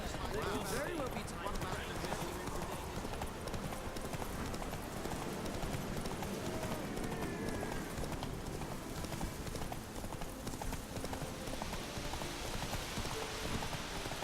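Horse hooves clip-clop at a steady galloping rhythm in The Witcher 3, the pounding beat running loud and continuous under game ambience with a light rain-like patter and someone talking over it.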